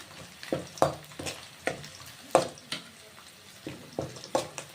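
Sliced onions frying in a pan for a Telugu-style cabbage fry, with bursts of sizzling and scraping stirs at a steady rhythm, close and moderately loud with no talking.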